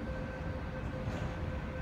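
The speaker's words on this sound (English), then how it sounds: "A non-stop train is passing through the station." An MTR Guangzhou-Hong Kong through train rumbles steadily past at close range through Fo Tan station without stopping, a broad continuous roar with a faint steady tone running through it, no voices.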